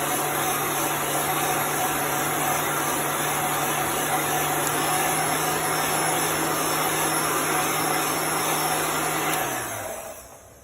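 A heat tool blows hot air to dry chalk paste on a white surface, a steady whirring hum holding at even loudness for about nine seconds before winding down.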